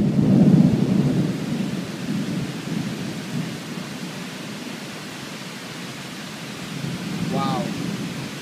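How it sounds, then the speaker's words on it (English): A night thunderstorm rolls with loud thunder rumbling at the start and again near the end, over a constant hiss of heavy rain. "there's a lot of thunderstorm here"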